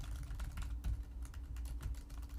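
Typing on a Microsoft Sculpt computer keyboard, a close, quick, uneven patter of soft key clicks with a few heavier thumps, alone without talk.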